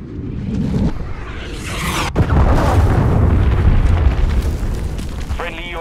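A cruise missile strike in Call of Duty Modern Warfare II, a loud close whoosh followed by a deep, sustained rumbling blast that rolls on for several seconds, with a voice announcing over the din.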